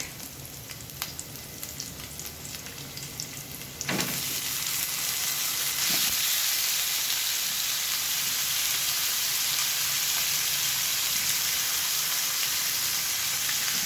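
Marinated pork hits a hot pan and bursts into a loud, continuous sizzle after a quieter stretch of light clinking, then frying steadily and close up, with no talk.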